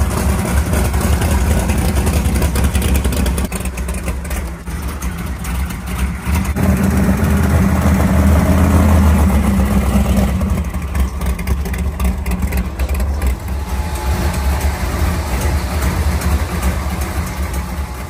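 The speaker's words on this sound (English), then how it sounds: "investigate a massive exhaust leak that the car developed at Edgewater on the driver's side" Race car engine running steadily at close range with a massive driver's-side header exhaust leak, giving a loud, rough, continuous low rumble that swells and eases slightly.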